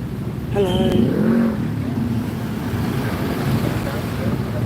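Road traffic rolling along a street in Ubud, Bali, a steady low rumble of passing vehicles close by, with a brief horn-like tone early on, heard outdoors on a walk.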